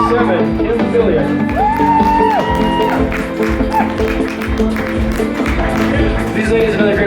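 A crowd claps and cheers for bikini competitors at a natural bodybuilding show, with dense, loud, continuous applause under voices and shouts and a rising whoop or whistle cutting through.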